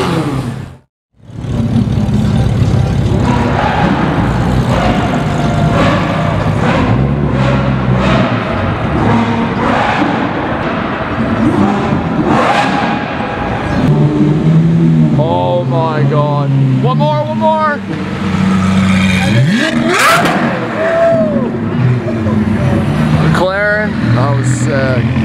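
Supercars including an ACR Viper launching at a Gumball rally, with loud engine roars and revving bursts over a steady crowd din, while people talk excitedly nearby throughout.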